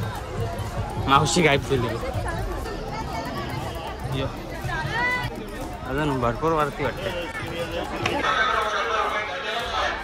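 A dense crowd at the Kelamba temple Navratri festival fills the air with continuous babble and shuffling movement, while nearby voices talk loudly over the hubbub.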